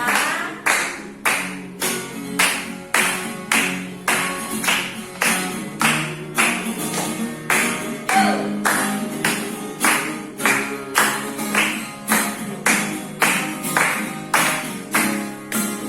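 Children clap their hands in a steady, even beat during an online church children's service, with about two loud, crisp claps per second carrying on without a break.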